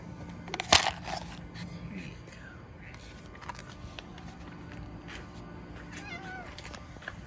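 A house cat lets out a loud, close meow near the start, followed by a few softer mews later under a low, steady background hum.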